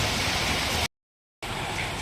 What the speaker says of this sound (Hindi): बारिश अभी भी बहुत तेज़ है